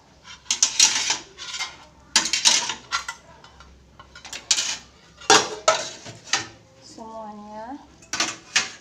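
Metal instruments dropped into a pot of boiling water for decontamination, giving repeated loud clanks and clinks of metal against metal in separate bursts, with a short whistling tone near the end.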